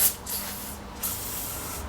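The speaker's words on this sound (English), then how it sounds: "I'm gonna go ahead and spray this in the joint, get it all up in there." Lubricant sprays from an aerosol can into the wheel joint of a lawn mower in two close, loud hissing bursts, the second longer than the first.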